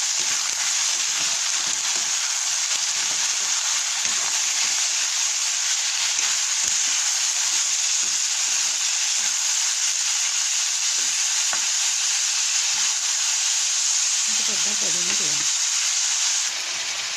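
Fish sizzles and fries steadily in a pan for a lunch dish, a continuous close hiss with a few soft stirring scrapes and clinks, growing busier near the end.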